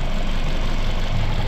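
A Toyota Altis car engine idles high at about 3,000 rpm with a check-engine fault, giving a loud, close, steady hum.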